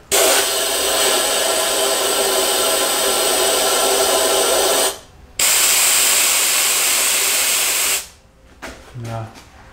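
A compressed-air spray gun blasts PermaFilm sealant onto a 1990 Opel Kadett E sedan, a loud, close continuous hiss in two long bursts separated by a short pause, ending with faint handling noises.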